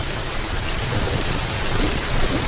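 Rain falls on dry grass on the Serengeti plain: a steady, dense patter of drops with a continuous soft hiss and low rumble, even and unbroken throughout.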